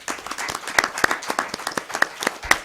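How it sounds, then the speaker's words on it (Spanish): Audience at a conference in a hall clapping together, a moderately loud, steady patter of many hands with a few sharp individual claps standing out, and no talk over it. "Mil gracias y por favor un aplauso para los..."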